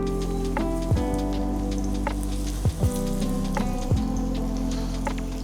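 Breaded cube steaks fry in a cast iron skillet with a steady, close crackling sizzle, broken by a few soft clinks and scrapes of a utensil; no one speaks.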